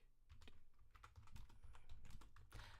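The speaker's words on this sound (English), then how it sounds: "I'm gonna type that shit up right now" Rapid computer-keyboard typing, a dense run of close, crisp key clicks with uneven rhythm and a few heavier keystrokes, continuing steadily without any talk.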